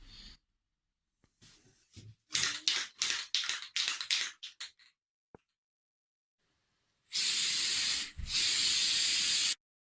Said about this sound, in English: I've never sprayed any kind of glitter paint before.